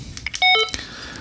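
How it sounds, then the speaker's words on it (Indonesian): Short electronic key beeps from a Motorola DM-390 dual-band DMR radio as its buttons are pressed, a quick cluster of clear, close tones with no talking. "Kemudian key beep, ini yang kita pencet bunyi titit"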